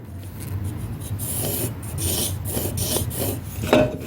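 Pencil drawn along a square to mark a line across a metal part, a close, scratchy rubbing sound in short strokes with a small tap near the end.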